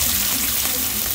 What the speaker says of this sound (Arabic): نحط بقى ايه البصل كده